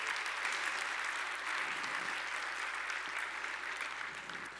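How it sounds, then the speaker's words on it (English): At a React developer conference, an audience applauds steadily, dense overlapping claps held at an even level for several seconds, slightly distant and fading a little at the end. "let's just do a round of applause for the people who did"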